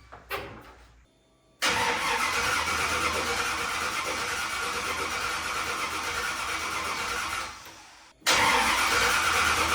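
A 1951 Dodge Pilothouse with a turbocharged LS engine swap cranks loudly and steadily on its first start attempt. The starter whirs for several seconds, pauses briefly, then begins cranking again close by. No one speaks.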